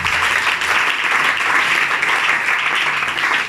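A church congregation applauds and cheers continuously, a dense, steady wash of clapping filling the room at full volume without a break.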